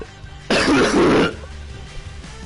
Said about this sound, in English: You know you cough really loud, right?